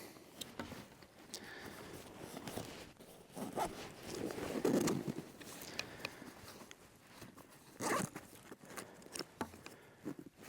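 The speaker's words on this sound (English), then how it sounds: "Everything zips right down." A MaxGear Darkstar 32L tactical backpack is unzipped outdoors, several quiet zipper rasps and fabric rustles in short irregular bursts, close but faint.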